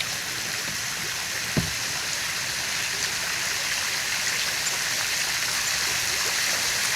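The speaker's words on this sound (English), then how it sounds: "Pulling up to the waterfall right now." Steady broadband rushing of water from a waterfall, heard from a moderate distance as it is approached while kayaking, with an even continuous hiss throughout and one brief thump near the start.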